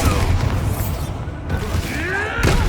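A Bombarda blasting spell goes off in the Hogwarts Legacy video game: a loud, booming explosive burst within dense, continuous battle noise, with a further thump near the end.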